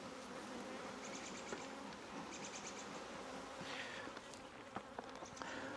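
A honeybee swarm fills a hive box, with the top box full of bees clustered together. A dense, continuous buzzing hums close by at a faint, even level.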